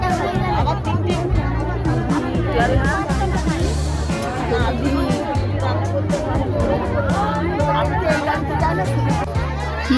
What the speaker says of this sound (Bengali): কি প্রচন্ড ভিড় দেখো ট্রেনে।